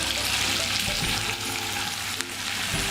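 Beef searing in Saint-Gérard butter in a pan, a loud, dense, continuous sizzle and crackle with no break.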